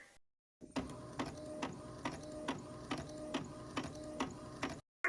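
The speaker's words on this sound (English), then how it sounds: "we got the Cricut rocking and rolling back there" A Cricut cutting machine runs steadily in a craft studio, its motor whirring with a regular series of clicks and carriage strokes about every half second, fairly close and alone, stopping abruptly at the end.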